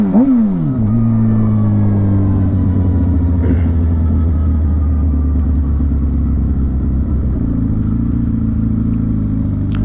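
A Suzuki GSX-R sport motorcycle engine rumbles loud and close, revving briefly at the start, then settling into a steady, even idle that continues throughout with no talking.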